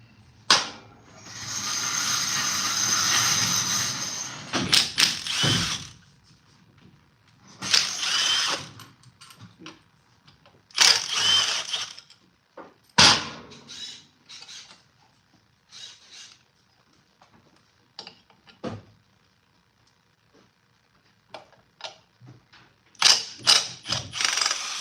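Bolts being removed from a Yamaha V-Star motorcycle while working on its starter, with bursts of a power driver whirring and ratcheting clicks separated by pauses and clinks of metal, close by and without talk.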